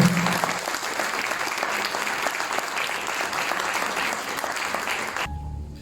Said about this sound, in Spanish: Yo quiero que le demos un aplauso a Dios